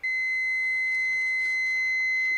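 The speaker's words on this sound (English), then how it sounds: "and I should get a beep" A continuity tester sounds a steady, unbroken electronic beep while probing a wire in a Foxbody steering wheel, held from start to finish with no talk.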